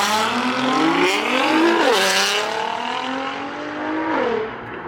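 Loud Nissan GT-R R35s pulling out of a car show, engines revving hard through rising and falling gear pulls, close and roaring with a hint of tire squeal, then fading as they drive away.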